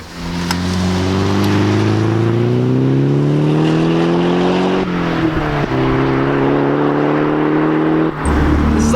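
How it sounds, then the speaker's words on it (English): A Nissan 180SX Sileighty, a front-engine, rear-wheel-drive sports car, is driven on the road, its engine loud and close as it pulls through the gears, with pitch rising, dropping at a few shifts, then rising again, and nobody talking. "Now it's time to harness up and take the 180SX out on the road"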